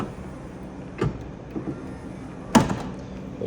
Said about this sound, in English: which pulls the step in and out nice and easily